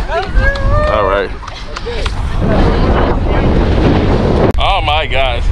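Strong gusting wind buffets the microphone on top of a volcano near León, Nicaragua, a loud continuous roar with people talking over it at the start and end.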